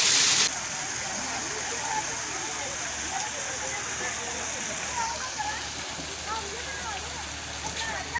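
An artificial rain waterfall at Canal City, Sarai Alamgir, gives a steady, dense hiss of falling water like heavy rain that continues unbroken throughout, with faint voices underneath.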